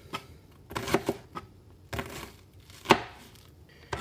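Knife cutting onion on a board: a few scattered chopping taps, close and fairly quiet, irregular bursts with pauses between them.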